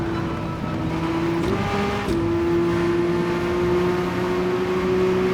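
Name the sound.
Porsche 962C race car engine in Gran Turismo 7 video game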